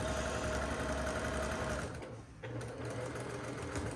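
A sewing machine runs steadily as it stitches a quarter-inch seam, its fast, even mechanical whirring continuing up close with a brief dip in the middle.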